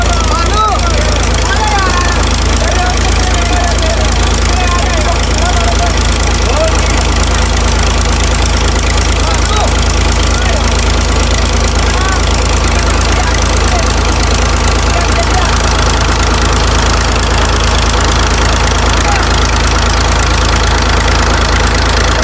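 A New Holland 480 tractor engine runs steadily while driving a village tube well, a loud, close, unbroken drone with a low rumble and faint voices underneath.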